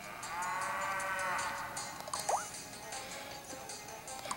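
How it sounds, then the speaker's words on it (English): A cow moos in the video game Miitopia, a drawn-out low call in the first second and a half, followed by a brief squishy sound and faint background noise. "that sounds like a freaking cow"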